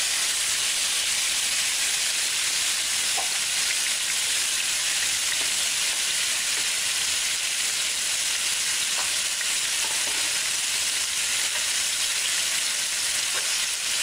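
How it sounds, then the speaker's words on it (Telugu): Marinated chicken frying in well-heated oil: a loud, dense, unbroken sizzle and hiss, close up and steady throughout, with faint occasional pops. "ఆయిల్ బాగా వేడెక్కిన తర్వాత మనం 20 నిమిషాల ముందు మ్యారినేట్ చేసుకుని ఉంచిన చికెన్ని అందులో వేసుకోవాలి"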